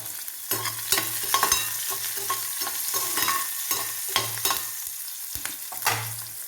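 Garlic and ginger frying in hot oil while being stirred give a steady close crackling sizzle, broken by repeated low scraping strokes of a spoon against the pan.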